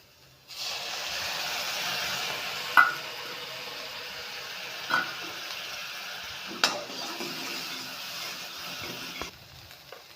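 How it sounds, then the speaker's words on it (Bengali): Vegetables with crushed ginger frying and being stirred in a pan for a fish curry, a steady soft sizzle broken by a few sharp spatula scrapes and clinks, with no talk. "সবজিগুলো দিয়ে ভেজে নেব।"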